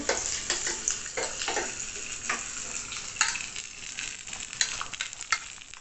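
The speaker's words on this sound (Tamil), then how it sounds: "நல்லா வறுக்கிறது" Cauliflower fries and sizzles in a pan with a steady crackling hiss and occasional stirring scrapes, close up and with no talking.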